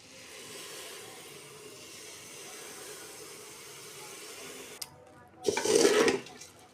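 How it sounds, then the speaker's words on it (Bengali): Milk poured bit by bit into semai in a hot pan while it is stirred: a quiet, steady background, then a short, loud hissing splash near the end. "এই দুধগুলো অল্প অল্প করে দিয়ে সেমাইতে নেড়ে ছেড়ে নিব"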